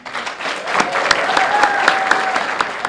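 An audience applauds at the FATV Boulder Award Ceremony 2019. The clapping is close and sustained, a dense, even patter that holds steady with a few louder claps standing out.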